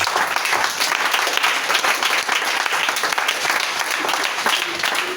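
A church congregation bursts into sustained applause to acclaim Jesus, dense steady clapping from many hands filling the room evenly for several seconds, with no pause or speech breaking through.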